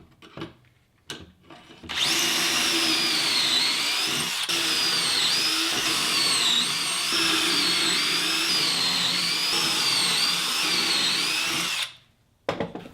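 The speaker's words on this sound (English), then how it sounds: "all the holes to attach the plywood are drilled" Power drill boring pocket holes through 1/2 inch plywood with a Kreg pocket hole jig, a loud, close, sustained high whine lasting about ten seconds with slight wavering pitch, framed by brief clunks before and after.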